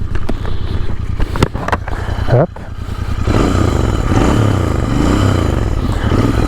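A Royal Enfield Interceptor motorcycle idles and runs at light throttle on a ride near Les Baux-de-Provence. A loud, close engine rumble builds after a few clunks and a brief word, then holds a steady, throbbing drone.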